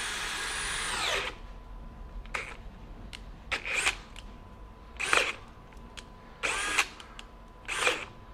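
A DeWalt DCD794 compact brushless drill in high gear bores a 3/4-inch self-feed auger into pressure-treated 2x6 lumber, whirring in short repeated bursts that bog and strain, close and fairly quiet.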